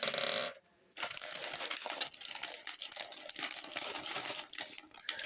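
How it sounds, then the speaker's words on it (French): Packets of a Ferrari SF-24 construction set being opened and handled, close crinkling and rustling of plastic wrapping with small parts rattling and clinking, loud and busy almost throughout after a brief pause near the start. "on va ouvrir deux paquets."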